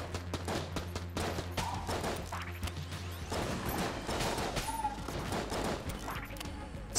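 Dense rapid gunfire from the roguelike shooter game Enter the Gungeon, continuous rattling bursts and impacts layered with game effects, loud and unbroken throughout.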